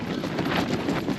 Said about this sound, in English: it's just bleak out there, and yeah, getting some strong gusts